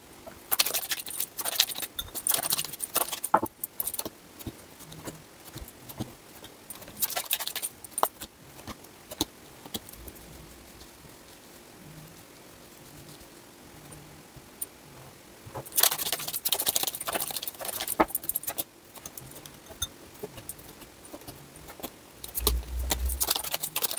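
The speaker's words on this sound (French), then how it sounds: "Je vais mettre en accéléré le mélange des cartes, le placement des cartes" Tarot cards shuffled and laid down on a table, sped up into a rapid patter of papery flicks and soft taps, with dense bursts of riffling separated by quieter stretches of light placement.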